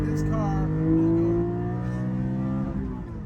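Porsche 718 Cayman GT4 engine pulling hard in second gear, a loud, steady, rising drone heard from inside the car, with faint talk over it.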